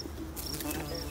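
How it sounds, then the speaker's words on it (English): Wasps and bumblebees buzzing around a nitrogen-fixing tree in full bloom outdoors, a steady faint insect drone with passing buzzes, partly masked by wind and broadband outdoor noise. "that's a dangerous place to be in the nitrogen fixing tree in full bloom with all these wasps cruising."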